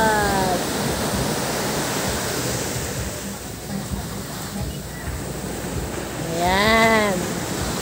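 Sea waves at a beach resort in Real, Quezon during high tide, a steady broadband wash of surf filling the whole stretch, fairly loud and continuous, with a brief higher tonal sweep near the end.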